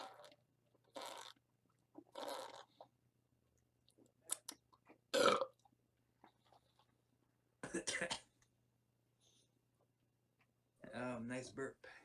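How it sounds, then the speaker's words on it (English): A burp after gulping Mountain Dew Baja Blast lands among short bursts of nearby speech, with small mouth and crunchy clicking noises in the quiet gaps between them. "Nice burp."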